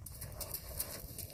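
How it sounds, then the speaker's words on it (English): Quick crunching hoofbeats of a black and white tobiano gelding on gravel in a short, uneven rhythm, fairly quiet and with no voices. "Here is Nick's Hawk playing in the gravel."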